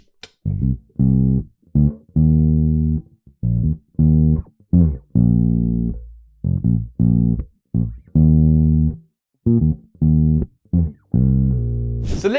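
Bass guitar plays a chorus groove: a solo line of deep, round notes in a bouncing, syncopated pattern with short gaps between phrases, clear and close with no other instruments.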